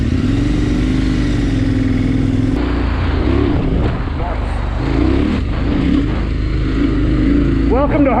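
A KTM 1090 adventure motorcycle rides off-road on a backcountry mountain trail, its engine droning loud and close throughout with rising and falling revs as it accelerates.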